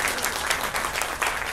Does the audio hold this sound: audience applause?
yes